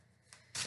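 Tarot cards shuffled in the hands, a quiet riffle that builds to a brief, louder burst of flicking cards near the end.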